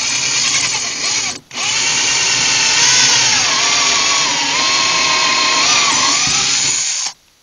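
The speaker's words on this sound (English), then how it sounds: "What we like are these tapered bits for doing a little pin." A power drill with a tapered bit bores a pin hole in bamboo for mortise-and-tenon joinery: a loud, close, steady whine with a brief stop near the start, then a long continuous run with the pitch shifting under load before it cuts out.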